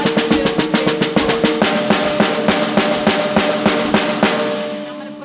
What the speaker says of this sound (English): We're going to play a phrasing accent every 2 notes